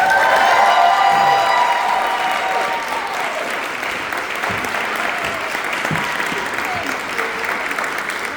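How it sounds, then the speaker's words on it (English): A workshop audience gives a big round of applause and cheers for a speaker, loud sustained clapping with whoops and crowd noise that slowly eases off. "would you please give a big round of applause to Nicolette Anderson?"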